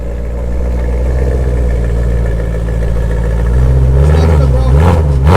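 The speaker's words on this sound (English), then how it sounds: "Looks like he's got a custom exhaust." A car fitted with a custom exhaust idles with a deep, loud rumble, then revs harder near the end, the engine note rising and wavering close by.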